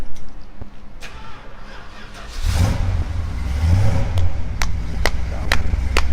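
An old car engine cranks and catches, then settles into a steady low rumble that swells as it revs, with a few sharp clicks and voices speaking nearby.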